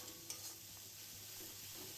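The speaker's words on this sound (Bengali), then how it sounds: "এবার মশলাটা একটু তেলে ভেজে নেব।" Ginger paste and cumin powder fry in oil for a fish-head pumpkin and Malabar spinach dish, giving a very faint, steady sizzle with soft stirring scrapes and a small clink at the start.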